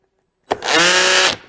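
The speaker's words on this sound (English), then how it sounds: "We'll go full drill mode" A cordless drill spins up sharply and runs at a steady high whir for under a second before cutting off, loud and close, in a Dewalt versus Milwaukee drill test.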